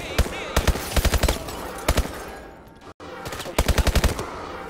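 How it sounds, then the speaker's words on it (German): Rapid bursts of automatic gunfire from a one-handed weapon in Call of Duty: Advanced Warfare ring out loud and close, in several quick strings separated by short pauses. "damit kann ich mit einer Hand ballern"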